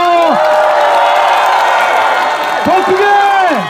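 A crowd at a rally for a politician cheers and shouts continuously as he leaves, a dense roar with a loud voice calling over it and rising whoops near the end.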